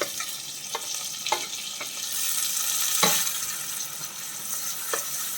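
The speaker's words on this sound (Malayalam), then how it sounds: "ഒരു 3 മീഡിയം സൈസ് സവാള ഞാൻ അരിഞ്ഞ് വെച്ചിട്ടുണ്ട്. അത് നമുക്ക് ചേർത്ത് കൊടുക്കാം." Three medium sliced onions with green chillies frying in a pan for egg mappas: a steady close sizzle punctuated by several sharp spoon-on-pan knocks and scrapes.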